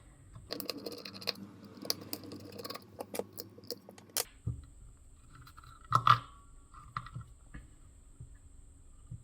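Screws come out of a CAT LED light during a teardown, heard as quiet metallic clicks and small taps in a close, sparse burst, then a few isolated clinks and knocks.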